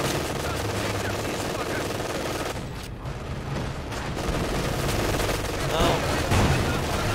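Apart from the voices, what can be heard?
machine gun fire in video game Company of Heroes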